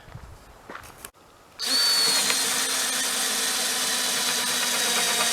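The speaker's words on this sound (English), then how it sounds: "So if I have enough battery left, I'm going to drill my hole" After a few faint clicks and a short pause, a cordless drill on a low battery whirs up loudly and runs steadily at high speed drilling a hole, close by.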